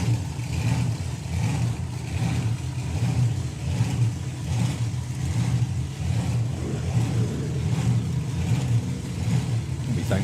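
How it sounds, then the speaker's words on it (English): Supercharged drag racing car at a nostalgia drag meet, engine roaring loud and steady as the tyres spin off the start line, a continuous rumbling blast with no pauses. "Almost every single run instantly spun the tyres off the start line."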